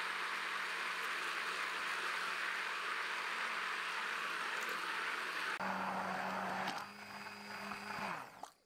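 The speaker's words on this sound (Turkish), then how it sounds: "Pürüzsüz hale gelene kadar blenderdan geçirdim." A blender purees chickpeas with lukewarm water, a loud steady whirring drone that holds for several seconds, then shifts pitch and slows as the motor changes speed near the end, with no voices.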